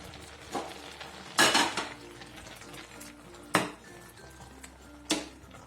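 A metal pot lid clatters as it is lifted off a pot of simmering fenugreek porridge, with a few sharp clanks and scrapes of cookware over a low kitchen background.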